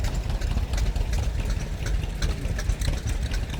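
A 1948 Standard Twin walk-behind garden tractor engine idles at an outdoor tractor show, giving a steady, close, low rumbling putter with a fast, even chug and no voices.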